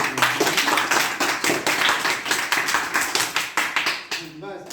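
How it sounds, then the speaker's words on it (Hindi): A classroom of children claps together in fast, loud, rhythmic bursts at a teacher's request, the dense clapping filling the room before trailing off with a few voices. "सब ताली बजाओ"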